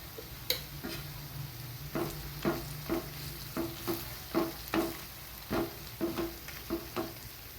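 Ghee tadka with red chilli powder sizzling as a spoon stirs it into masala dal khichdi, a faint frying hiss under a run of regular metallic clicks and scrapes from the spoon against the pot.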